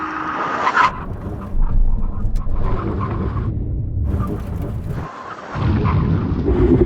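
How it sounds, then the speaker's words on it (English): Supercars, a tuned Porsche 911 Turbo S, a Ferrari 488 Pista and a Lamborghini Aventador SV, make full emergency stops from 70 mph: loud engine roar and rushing noise with bursts of tyre screech, close and intense. "Now we're going for a brake test from 70 miles an hour. When we reach the line, full emergency stop."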